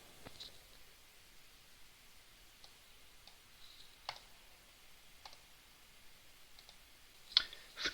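Sparse mouse clicks in the Godot game editor, a handful of sharp, close ticks spaced irregularly over a quiet room-tone hiss, with a quick double click near the end.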